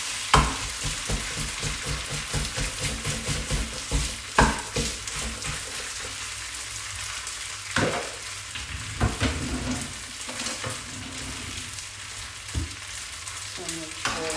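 Rice noodles stir-fry in a hot pan for Vietnamese hu tieu xao, a continuous close sizzle broken by repeated scraping and clanking of a utensil stirring and breaking up the noodles, no talking.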